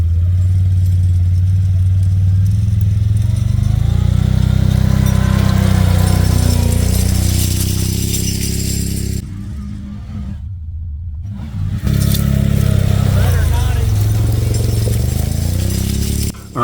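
A Can-Am Outlander ATV engine in work mode drags a lawn-levelling drag across ground, a steady close mid-pitched drone that surges and eases, dips briefly near the end, then picks back up.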